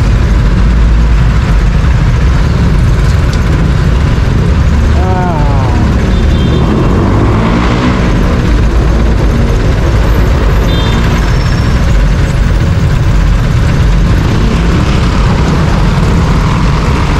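A six-year-old NMAX motorcycle idles at a stoplight, giving a steady low rumble that holds for the whole stretch amid surrounding street noise, with voices faintly present.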